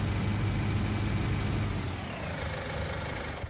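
Tractor engine in Farming Simulator 19, a loud, steady, low rumbling idle that dips slightly partway through and keeps running evenly, close up and without any voices.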